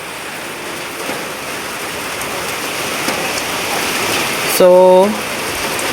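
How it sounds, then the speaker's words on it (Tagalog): Heavy typhoon rain pours steadily over a rural provincial garden, a dense, continuous hiss throughout, with a single spoken word briefly near the end. "ang bagyong Inday ay dumating na talaga"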